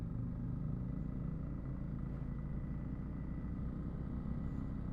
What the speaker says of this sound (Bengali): আমাদের সবকটা বাইক পরপর যাচ্ছে